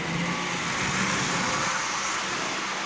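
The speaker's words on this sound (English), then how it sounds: "it runs this Marx motor absolutely splendidly" A Marx toy train motor running on a 3 to 12 volt DC controller, a steady close whirring hum with a gritty mechanical buzz, held at constant speed throughout.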